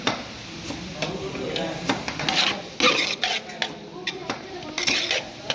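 Metal utensils scrape and clink against a pan as boiled green vegetables are stirred and sautéed, with irregular rattling strokes, close and moderately loud, while a person talks in the background.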